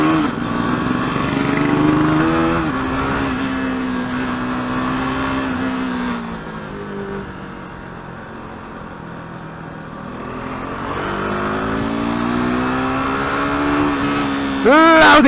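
KTM RC 390 motorcycle engine revving and shifting through city traffic, rising and falling pitch sweeps with a lull in the middle and a sharp rev at the end, loud and close, with voice over parts.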